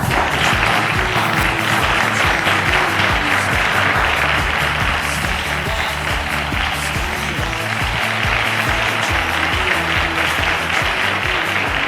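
A large audience at a quiz competition final applauds its senior champions with loud, sustained clapping, while rhythmic music with a steady beat plays underneath throughout.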